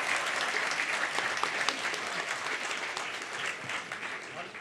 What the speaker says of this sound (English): can you warm him to the stage, please, with some applause?